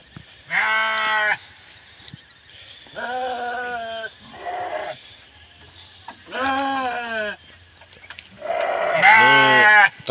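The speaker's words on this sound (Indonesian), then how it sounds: "Tuh depan juga ada domba ya." Sheep kept by villagers in the middle of a drought-stricken rice field bleat in four or five loud, wavering calls spaced a second or two apart, close by with quiet gaps between them.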